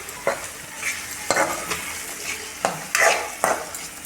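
A spoon stirs mutton curry in a hot pan, with several close scraping strokes over a soft, steady sizzle of frying.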